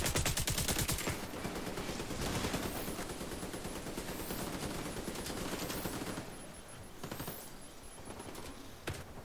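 Sustained light machine gun fire in The Division 2, a rapid continuous stream of loud close shots with brief pauses, gunfire dominating throughout with no talk.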